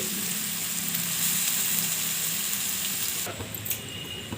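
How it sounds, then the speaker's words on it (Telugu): Ponaganti leaf curry frying in a pan, a steady loud sizzle with stirring scrapes, easing slightly near the end. "వీటిని కొంచెం నిమ్ము బాగా పీల్చుకునే వరకు వేగనివ్వండి"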